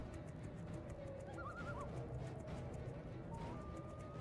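A horse in the fantasy video game Two Worlds gives a short, wavering whinny midway through, heard moderately loud over a steady low ambient background and game sounds.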